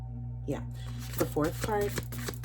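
Oracle cards being shuffled by hand before a draw, producing soft papery riffles and taps in short bursts over a steady low hum, with a voice talking over them.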